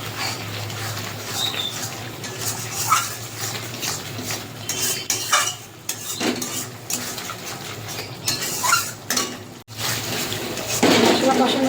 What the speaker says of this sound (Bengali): মশলা কষানো হয়ে গেছে, মশলা থেকে তেল ছেড়ে দিয়েছে।